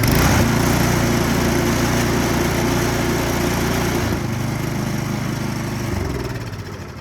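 Craftsman 179cc snowblower engine running steadily after a carburetor cleaning, a loud, even small-engine drone held close by, smooth with a slight dip in pitch partway through and no talking.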